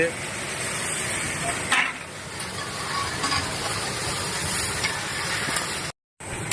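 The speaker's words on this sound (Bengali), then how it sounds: "পটল চিংড়ির পটল ভাজা হচ্ছে" Pointed gourd frying in oil, to go into a prawn curry, produces a continuous broadband hiss and sizzle with faint clinks, interrupted by a brief dropout near the end.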